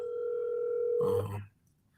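An outgoing telephone call plays a steady single-pitch tone for about a second, then cuts off abruptly with a short burst of clatter and a low thump as it ends.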